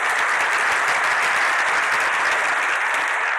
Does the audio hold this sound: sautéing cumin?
no